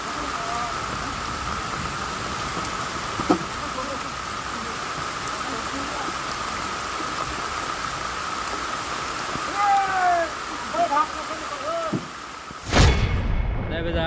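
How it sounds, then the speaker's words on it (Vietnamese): Heavy rain pouring outdoors during flooding in the Central Highlands of Vietnam, a steady dense hiss throughout with a few faint knocks and a sharp thump near the end. "nhưng mà trời mưa rồi anh em ạ."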